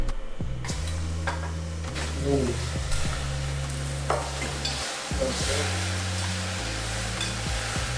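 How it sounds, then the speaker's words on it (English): Pork belly stir-frying in melted caramelized sugar, a steady loud sizzle with quick scraping stirs of a utensil against the pan, close up and continuous throughout, no one speaking. "now that the sugar is melting down, it's become caramelized color, and then that means we're gonna add the pork in"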